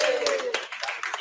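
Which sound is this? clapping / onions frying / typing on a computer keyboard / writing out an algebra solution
clapping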